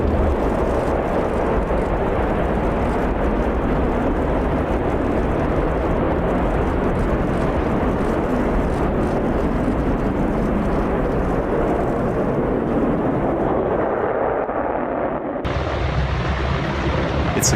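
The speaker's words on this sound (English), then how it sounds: "What a full force F-16 takeoff looks like." An F-16 fighter jet takes off at full power, a loud, sustained broadband roar that rumbles steadily before cutting off abruptly near the end.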